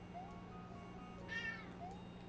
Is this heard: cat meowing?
yes